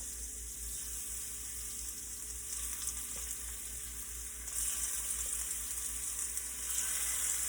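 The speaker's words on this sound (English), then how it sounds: "our oil is hot. So we're gonna go ahead, take them, place them in the oil" Shrimp dropping into hot oil in a pot for Cajun seafood alfredo, a soft steady hiss and crackle that grows louder midway and again near the end as more go in, with a low hum underneath.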